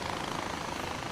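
A small, low-end helicopter in the video game Far Cry 4 whirs in a steady, dense drone of rotor and engine noise, continuous and fairly close throughout with no talk over it.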